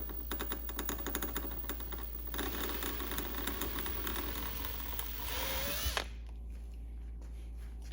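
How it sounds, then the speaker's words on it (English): A power drill whines steadily for several seconds, grinding into the metal of a new carburetor for a Suzuki DRZ400SM, then cuts off, leaving quiet room tone. "I'm drilling on a brand new carburetor"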